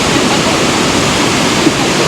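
Floodwater rushing down a river in heavy rain, a loud continuous roar of churning water filling the whole clip, close and steady with no break.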